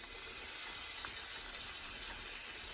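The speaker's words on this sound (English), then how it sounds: "we're going to cook the onions down in the pan drippings from the pork chops" Onion cooks down in pork chop pan drippings, giving an even, continuous hiss and sizzle. It sits close and fairly loud and lasts the whole time, with no voice over it.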